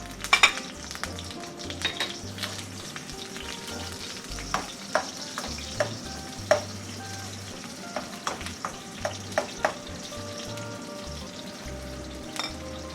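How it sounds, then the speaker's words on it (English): Onions tossed into hot oil for a Malaysian nyonya chicken stir fry, a steady close sizzle broken by repeated sharp scrapes and clacks of a utensil against the pan as they are stirred. "I'm going to turn up the heat. I'm going to toss in the onions."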